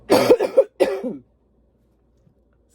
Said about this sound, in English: I cough from here, not here